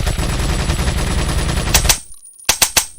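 Loud, rapid automatic gunfire in a Resident Evil 4 remake-style video game sustains for about two seconds. After a brief pause, three sharp, separate shots ring out.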